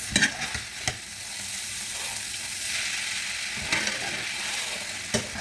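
Indomie instant noodles sizzle as they are stirred and fried in a pan, a steady broadband frying hiss with a few sharp clicks of the utensil scraping the pan, no voices.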